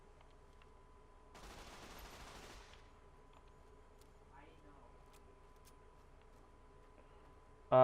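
A machine gun in Fallout: New Vegas, during the Honest Hearts DLC, fires one short rattling burst that sounds faint and somewhat distant against quiet game ambience.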